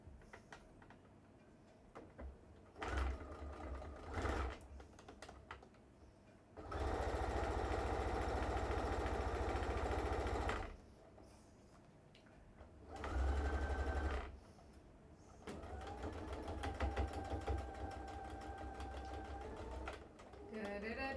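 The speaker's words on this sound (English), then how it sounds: "then I'm going to sew the arm" A sewing machine stitches the arm of a fabric Christmas gnome, whirring in a long steady run and then shorter bursts, close and loud, with someone talking between and over the stitching.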